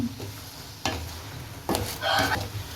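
Palm jaggery syrup being stirred on a high flame while making a Sri Lankan halwa: soft, quiet scraping and sloshing strokes in a few separate passes over a low sizzling background.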